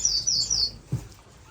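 Strawberry finches in an indoor bird room give a quick run of three high, thin chirps close by, followed by a single soft low peep, with no voices.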